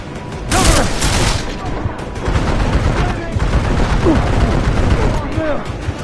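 Sustained bursts of gunfire in the video game Deus Ex: Mankind Divided, loud and continuous across the whole stretch, with rapid overlapping shots and a couple of heavier volleys near the start, under steady background game noise.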